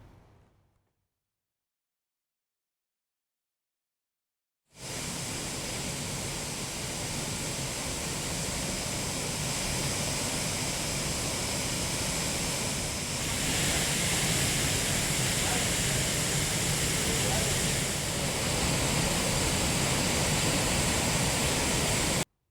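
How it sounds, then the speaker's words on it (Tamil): Rain-swollen waterfall and streams in Tenkasi roar as a steady, loud broadband rush of falling water that starts abruptly after a few seconds of near silence and holds constant to the end. "தென்காசியில் உள்ள பல்வேறு பகுதிகளில் பெய்து வரும் தொடர் மழையால் மாவட்டத்தின் நீரோடைகள் மற்றும் நீர்வீழ்ச்சிகளில் தண்ணீர் வரத்து அதிகரித்து வருகிறது"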